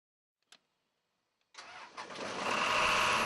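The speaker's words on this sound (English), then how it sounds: "After all connections are made, start the air compressor." An air compressor powering a hammerhead mole tool starts up after a couple of faint clicks, its engine catching and building into a loud, steady running roar nearby.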